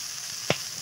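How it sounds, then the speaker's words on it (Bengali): Cut beans, eggplant and potatoes with green chillies frying lightly in a pan give a faint, even sizzle, broken by one brief clack of a spoon. "হালকা কিছুক্ষণ ভাজবো, বেশি ভাজবো না, হালকা কিছুক্ষণ ভাজবো"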